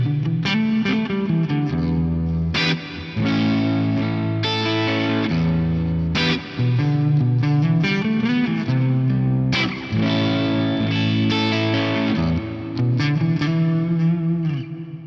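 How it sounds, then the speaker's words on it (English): Electric guitar on the neck pickup with an edge-of-breakup, cleanish tone drenched in large hall reverb, playing steady chords and melodic notes close and loud for the whole stretch, with lingering reverb tails. "This is a pretty sweet edge breakup, cleanish tone with a lot of this hall reverb on there."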